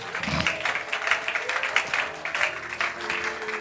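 Church congregation applauding steadily during a Sunday service, a dense continuous wash of clapping from many hands, fairly close and sustained throughout.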